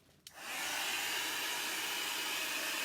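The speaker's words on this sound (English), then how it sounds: "I'm going to just make life easy and put my little hair dryer on here." After a brief click, a hair dryer switches on and blows steadily with a loud, even rushing whir that continues without change.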